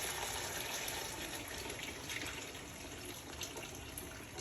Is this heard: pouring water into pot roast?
yes